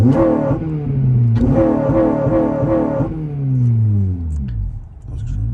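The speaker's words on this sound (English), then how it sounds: "Launch control's working, so that the Polo in front certainly enjoyed that" Tuned Honda Civic Type R FN2 engine revving hard on launch control, loud close rev bursts bouncing off the limiter with repeated rises and falls, then the revs drop away.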